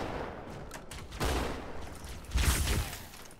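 Gunfire in the Halo 2 video game: bursts of rapid shots come in two clustered volleys amid a dense battle noise bed, with no talking.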